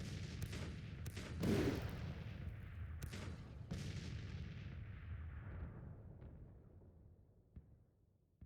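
Artillery fire in the Civil War strategy video game Grand Tactician: The Civil War: a rolling fusillade of heavy booms and cracks that thunders early, then decays into a long fading rumble with a few distant later shots.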